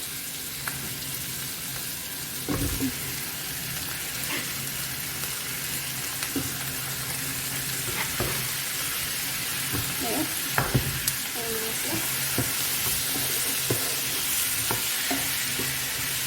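Tomato and hot chili peppers frying in a pan, a steady close sizzle with occasional stirring clicks and scrapes throughout, no talking.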